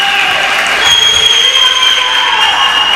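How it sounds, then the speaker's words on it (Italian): Steady applause from a crowd at a wheelchair rugby match between Saspo Cagliari and Padova, a continuous dense patter with some cheering mixed in, filling the whole stretch at constant loudness. "applausi."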